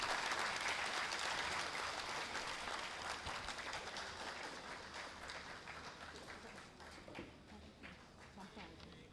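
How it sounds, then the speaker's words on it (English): A conference audience at the ICMLS-2024 opening session gives a big round of applause honoring Dr. Pankaj Kaul, a dense wash of many hands clapping that starts strong and slowly thins out, fairly distant, with some voices mixed in. "Let's give a big round of applause to honor this achievement."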